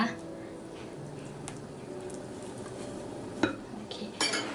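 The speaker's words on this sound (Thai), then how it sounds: "ตะล่อมให้เข้ากันนะคะ ปาดให้ถึงก้นอ่างขอบอ่างปาดให้หมดนะคะ" A spatula folds and scrapes lemon cake batter around the sides and bottom of a mixing bowl, producing soft repeated scraping strokes with occasional light clinks against the bowl.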